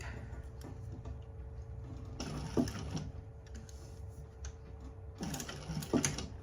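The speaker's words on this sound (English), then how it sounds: "we're going to sew around the flap, but we're not going to sew the top" A sewing machine stitches around the curved flap of a fabric candy bag in two short bursts of rapid mechanical whirring and ticking, separated by a quiet pause, faint and close.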